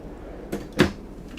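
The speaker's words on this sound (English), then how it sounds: "pull it out, gives you some nice counter space, and 3 very deep drawers" A deep full-glide drawer in a Tiffin Phaeton 40QKH motorhome is pulled out, giving a soft slide and then a sharper knock as it stops, with no talk.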